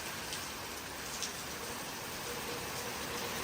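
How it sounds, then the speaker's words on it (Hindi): Heavy rain pours down steadily during Cyclone Garance in Mauritius, a dense, unbroken hiss of drops on surfaces with no voices, fairly faint and distant-sounding. "देख सकते हो बारिश अभी भी कितनी हो रही है।"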